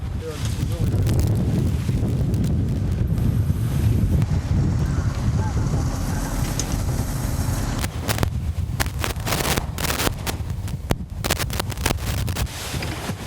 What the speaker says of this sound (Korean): 시간이 갈수록 바람은 더 세지고 파도도 높아만 갑니다.